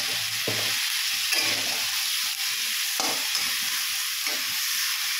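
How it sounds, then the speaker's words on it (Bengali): Onions frying for chicken curry in a pan, with a steady loud sizzle and hiss and intermittent scraping stirs throughout. "ভালো করে পেঁয়াজটা ভেজে তারপরে এ করতে হবে"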